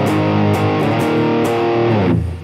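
Electric guitar played through a Boss DS-1 distortion pedal, loud and close, with a sustained distorted chord and a few shifting notes before the sound cuts off abruptly.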